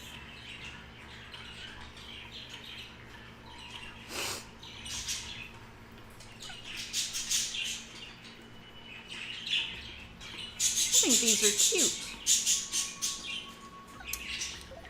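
Pet birds squawking and chirping indoors, bursts of loud calls scattered across the clip and growing louder near the end, with a man's brief speech over them.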